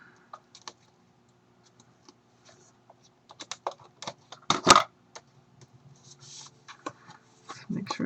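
Adhesive tape being pulled and pressed down while making a pocket card, heard as scattered crackles and short tearing rips, with a louder burst midway, fairly close and without speech.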